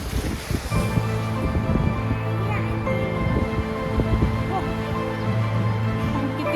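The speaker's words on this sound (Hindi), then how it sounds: "कितनी तेज़ हवा चल रही है।" Strong wind gusts roar steadily across a mountain setting near Mukteshwar, loud buffeting noise against the microphone with a faint voice underneath.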